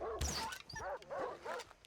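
A dog in Far Cry 3 gives a quick series of four or five close, yelping barks and whimpers in about two seconds.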